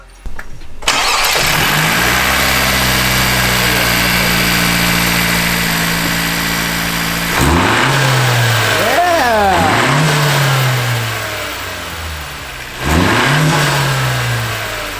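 A Toyota Soarer's engine cranks and starts, settles into a steady idle, then revs up sharply twice with falling pitch after each rev, close and loud.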